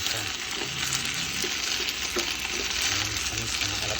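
Pechay being stirred in a frying pan, a dense steady sizzle with soft scraping and faint clinks underneath, close and continuous through the short stretch, with no talk.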